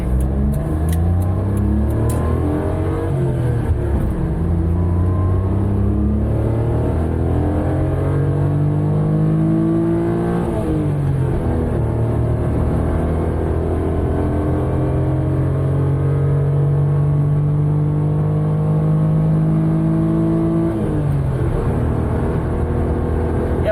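Car engine revving up repeatedly as the vehicle accelerates, pitch climbing through several gear shifts, loud and close throughout.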